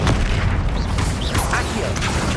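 An Incendio fire spell is cast in the Hogwarts Legacy video game, a loud, dense rumbling whoosh with mechanical crackle that fills the whole moment without pause.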